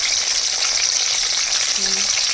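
Chopped vegetables frying in hot oil in a wok, a loud dense continuous sizzle filling the whole moment.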